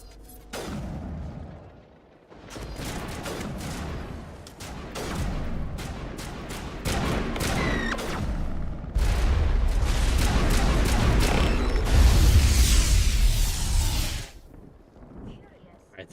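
In the Mass Effect video game, a fast run of sharp, booming shotgun blasts and gunfire fills the battle, while someone talks over much of it.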